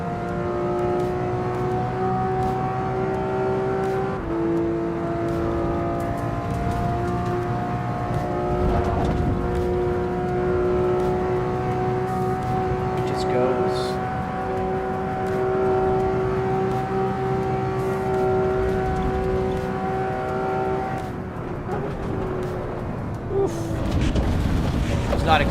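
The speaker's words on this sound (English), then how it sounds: "I love the Porsche sound" A Porsche engine in a driving video game drones steadily with a sustained tonal hum that shifts slightly in pitch, running continuously throughout with a voice talking over it.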